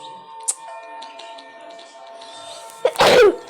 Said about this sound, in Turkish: Hapşırdım.